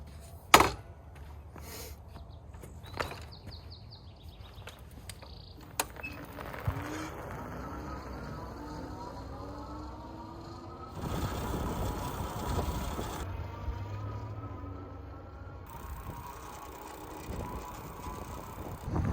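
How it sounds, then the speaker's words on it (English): A Himiway Cruiser electric fat bike, over 70 pounds, rolling along on a test ride with mechanical clicks and creaks, a rising motor whine, and patches of wind rushing over the microphone. "Himiway Cruiser e-bike"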